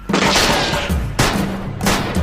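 Bursts of gunfire in a sharpshooter game scene, three loud sustained volleys of rapid shots about a second apart, dense and close, with no talk over them.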